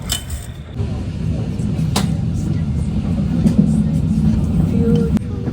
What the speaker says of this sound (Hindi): हम एंजल बर्ग के लिए ट्रेन में बैठ गए हैं